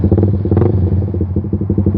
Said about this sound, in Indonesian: mau test ride knalpotnya di jalan raya. Itu kayak gimana sih suaranya kan